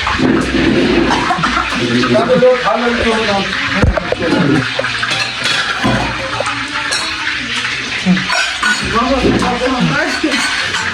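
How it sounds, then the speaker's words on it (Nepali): Potatoes frying in a pan give off a steady, close sizzle with occasional clinks of utensils, and people talk over it throughout. "यो खाना आलु फ्राई गर्ने तरतिब हुँदैछ"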